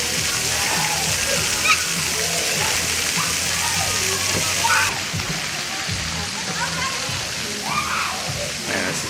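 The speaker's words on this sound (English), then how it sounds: "Another look at the splash pad." Steady broadband wash of splashing water at a hotel pool splash pad, continuous and fairly loud throughout, with faint voices murmuring in the background.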